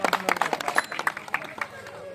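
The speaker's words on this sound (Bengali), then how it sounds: "জবা সরকারের উদ্দেশ্যে ছোট্ট একটি হাততালি।" A small crowd gives brief, scattered applause for a speaker at an Independence Day celebration in Bethuadahari, with short, uneven claps that thin out within about two seconds.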